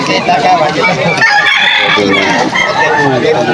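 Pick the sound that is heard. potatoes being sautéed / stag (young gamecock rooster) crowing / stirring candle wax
stag (young gamecock rooster) crowing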